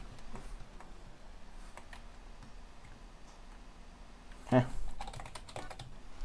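Brief burst of quick keystrokes on a computer keyboard entering a cheat code during GTA: San Andreas, soft and close, then a louder thump and rustle as game sound resumes.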